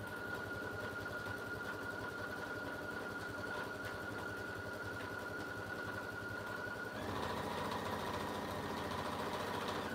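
A sewing machine runs steadily while stitching a bag, a continuous close mechanical whir that shifts slightly in pitch and gets a bit louder near the end, with no talking.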